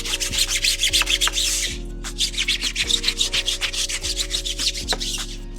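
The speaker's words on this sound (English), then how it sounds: "And we gotta scrub that tire pretty good." A brush scrubs a car tire coated in a heavy dressing chemical during wheel cleaning, giving rapid back-and-forth rubbing strokes, close and steady, over a low hum with repeated tones in the background.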